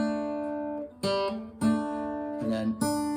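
Guitar picks out a verse riff, with open strings and hammer-ons giving several crisp plucked attacks that ring and overlap, played close and alone.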